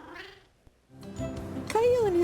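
A pet cat in an animated children's Christmas story gives a drawn-out meow at close range, following a short stretch of speech.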